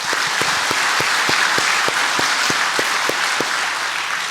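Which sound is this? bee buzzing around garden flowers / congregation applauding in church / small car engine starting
congregation applauding in church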